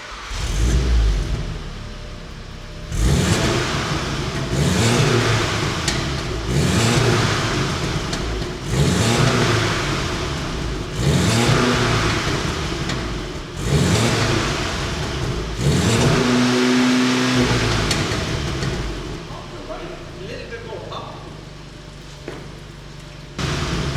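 A VW Golf R engine fires up for its first start and is revved repeatedly, several loud rising blips with short pauses between, each settling back to a steady idle, close by with no talk.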